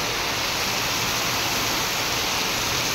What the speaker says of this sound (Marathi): ते इकडं मोक्कर पाऊस चाललाय.